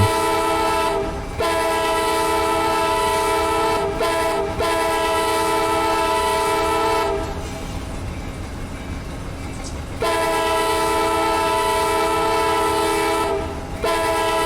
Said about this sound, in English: Lots of crossings, I told you, a lot of horn action.